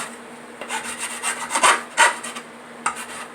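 Quick hand filing on wood at a counter, a handful of short, dry rasping strokes in an uneven rhythm, close and fairly soft.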